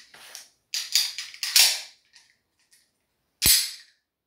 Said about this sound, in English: you hear click, empty.